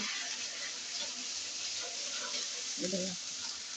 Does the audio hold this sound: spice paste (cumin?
yes